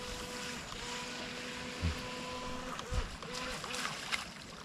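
An FTX Glader TY XIN 725 RTR radio-controlled jet sprint boat runs its motor in reverse on open water, giving a faint, steady whine with slight wavering and a few brief splashy bumps.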